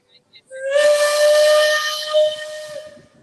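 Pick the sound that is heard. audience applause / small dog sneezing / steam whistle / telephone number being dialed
steam whistle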